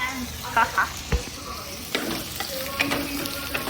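Beef for tsuivan fries in a pan with a moderate sizzle, punctuated by a few knocks and scrapes of stirring; a voice is briefly heard in the background.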